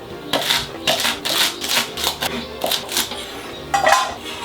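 Knife chopping leeks on a cutting board, cut on the bias into peasant-style triangles: a series of crisp, close taps and slicing knocks in an irregular rhythm.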